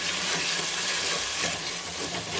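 Tomato sauce being stirred into a sizzling onion, ginger, garlic and green chili tadka in a pan, a continuous close frying hiss with soft scraping of the spoon.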